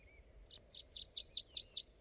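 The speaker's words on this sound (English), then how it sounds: "Wilson's Warbler" A Wilson's Warbler in Rocky Mountain National Park sings a quick, bright series of about seven sharp chips that grow louder toward the end, clear and fairly close, with an American Robin faint in the background and no talking.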